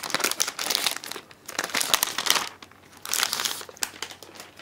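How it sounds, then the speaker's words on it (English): Protective plastic film peeled off a new Apple iPad 2, loud close crinkling and crackling in irregular bursts with a short pause midway, no talk. "I'll go ahead and pull off the plastic."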